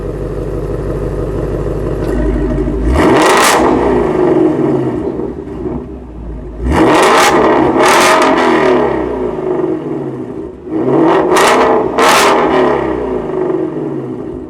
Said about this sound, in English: let's hear this rev here. Again, this is a regular Regular. standard mode. Now put into the loud mode